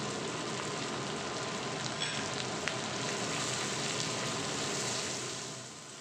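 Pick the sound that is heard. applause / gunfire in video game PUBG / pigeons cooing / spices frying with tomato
spices frying with tomato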